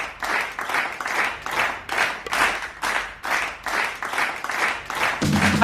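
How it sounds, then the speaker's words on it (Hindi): Rhythmic group clapping in bursts, a steady run of roughly a dozen claps close by, each sharp and fairly loud, with no talk over them. "आइए ताली बजाते हैं।"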